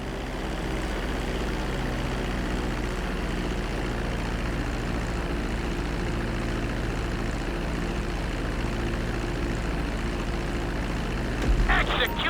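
A propeller airplane comes in to land on a runway in GTA V, its engine a steady, loud, continuous drone throughout with a brief clatter near the end.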